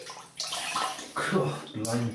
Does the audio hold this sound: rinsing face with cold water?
yes